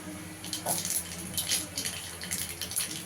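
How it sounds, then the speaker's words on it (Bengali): Nigella seeds hit hot oil for tempering while cooking kakrol vorta, bringing a continuous close sizzle with bursts of crackle and pop over a steady frying hiss, no talking heard. "এবার এই তেলে একটু কালো জিরে ফোড়ন দিয়ে দেবো।"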